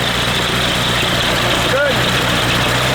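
Aircraft piston engine idling during carburetor synchronization, a steady, loud, unbroken drone with a low throbbing rumble, close up and constant throughout, with a brief faint whistle partway through.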